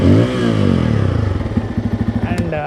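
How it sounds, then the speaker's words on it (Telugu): Exhaust of a running Bajaj Pulsar N250 motorcycle, close and fairly loud, settling from a blip of revs into a steady, pulsing idle thump. "ఒకసారి విందాము ఎగ్జాస్ట్ ఏ విధంగా ఉంటుందో"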